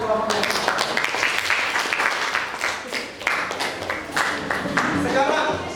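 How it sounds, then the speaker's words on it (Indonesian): A classroom of students claps for a group of classmates, a dense and loud burst of hands that lasts several seconds, with a brief dip midway before the clapping picks back up. "tepuk tangan untuk kelompoknya"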